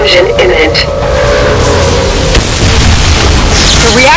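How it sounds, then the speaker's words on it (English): A reactor explodes in the video game Bodycount, a loud continuous booming roar that keeps going as a voice speaks over it. "Explosion imminent."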